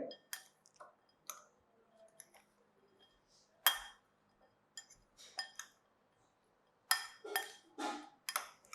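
Sprouted moth beans are mixed in a bowl with a spoon, giving scattered close clinks and taps of metal against the dish with quiet gaps between bursts of activity.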